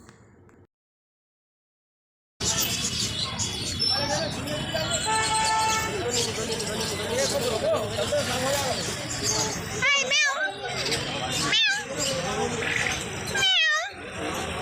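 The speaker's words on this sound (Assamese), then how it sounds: "মেকুৰী চা বেটা" Amid busy market background noise and people talking, a cat gives several distinct meows, spaced out toward the end, fairly close.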